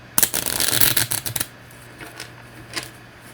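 Tarot cards are shuffled in a quick riffle of dense, crisp flutters lasting about a second, followed by a few faint taps and card handling sounds.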